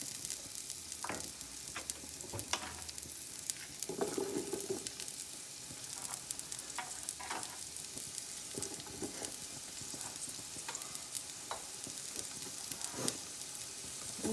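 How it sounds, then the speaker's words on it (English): Onions stirred into vegetable fried rice with cauliflower in a hot pan, a steady close sizzle broken by frequent scraping and clinking strokes of the utensil, no voices. "I'm gonna mix this and I'm gonna add my onions in right now."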